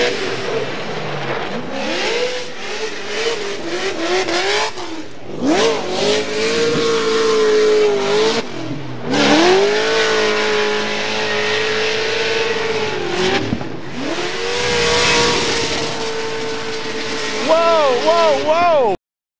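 Supercharged V8 Nissan S14 drift car at a Formula Drift round in Atlanta, engine screaming through repeated rev climbs and drops with tire squeal and crowd noise, loud and close, with an announcer talking over it.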